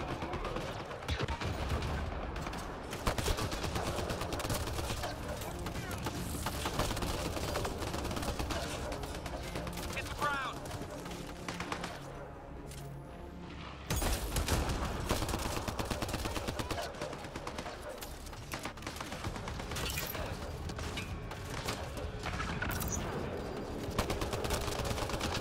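Dense, continuous gunfire and bursts of automatic weapons in a Mass Effect Andromeda multiplayer match, loud and sustained throughout with constant battle clatter, and a voice speaking at points.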